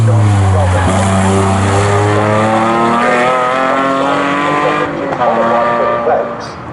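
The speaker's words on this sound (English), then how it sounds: "there goes the green car" A Morgan race car in a Morgan Challenge race at Snetterton circuit roars past with a loud, sustained engine note that drops in pitch as it goes by, while a commentator talks over it.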